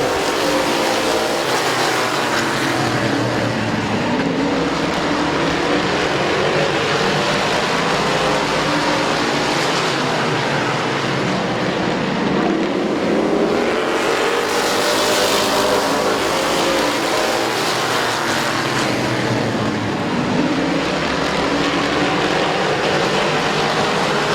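Street stock race cars at Midvale Speedway roar continuously around the oval, a dense, steady engine drone that swells and fades as the pack passes, with no talk.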